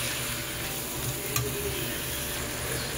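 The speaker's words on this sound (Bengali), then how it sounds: "গ্যাসের আঁচটাকে হাই করে দিয়ে এবার আমি সব মশলাগুলোকে আবার একটু ভালোভাবে নেড়ে চেড়ে নেব" Spiced vegetables sizzle steadily in a pan over high gas, a continuous close frying hiss with a light spatula stir partway through and no voices.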